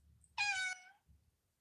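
A domestic cat gives a single clear, drawn-out meow, fairly close and alone in a quiet room, followed by a faint low rustle.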